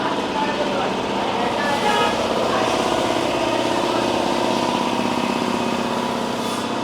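A car engine runs steadily throughout, a continuous close drone with a constant rattling texture and no pauses.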